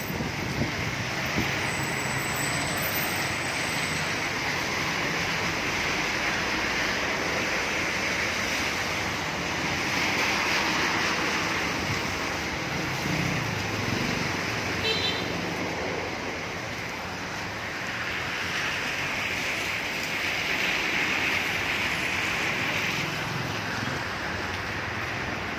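Steady outdoor wind roar with a broad rushing wash of cold gusty wind and rain during a typhoon, continuous and fairly loud with no one speaking.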